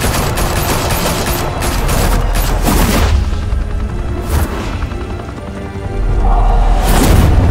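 Heavy gunfire bursts and booms from the Batman: The Telltale Series video game, loud and continuous, with volleys of shots and explosive thuds across the whole stretch.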